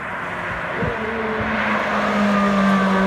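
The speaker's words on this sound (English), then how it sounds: "listen to that shift" A Chevrolet C8 Corvette Z06 engine drones and rises in pitch, with a quick dual-clutch gear shift break before it climbs again under acceleration on a mountain pass.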